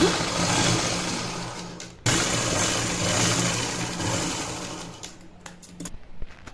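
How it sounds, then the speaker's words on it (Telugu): A sewing machine stitches a blouse lining in steady, fast runs, breaking off briefly, then resuming before slowing into a few short stop-start bursts near the end. It is close and loud, with no talking. "నేను ఇప్పుడు స్టిచ్చింగ్ చేసి చూపిస్తాను హెమ్మింగ్ లేకుండా"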